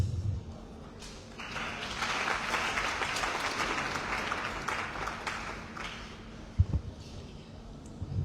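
An audience claps at the close of an internship program launch, sustained applause building and then fading, with a couple of sharp thumps near the end.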